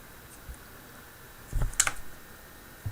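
A few quiet computer keyboard key clicks while typing a Linux command, a small cluster of taps near the middle of an otherwise quiet room, with no talking.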